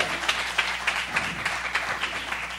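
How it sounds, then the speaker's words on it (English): A church congregation claps in a loose, uneven rhythm, moderately loud, with no voices over the clapping. "Give God a hand clap"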